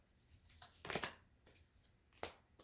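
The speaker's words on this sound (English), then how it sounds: "These cards are thick and not quite as easy to shuffle." Thick tarot-style oracle cards are shuffled in a few quiet bursts of riffling and slapping, with short pauses between them.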